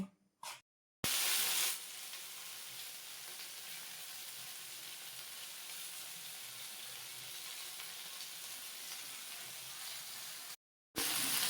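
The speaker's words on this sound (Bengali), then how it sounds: "অন্যদিকে আমি ভেন্ডিগুলো ভেজে নিচ্ছি" Okra pieces frying in hot oil give a steady, loud, continuous sizzle with broad hissing that holds for about ten seconds, with short gaps near the start and end and no talking.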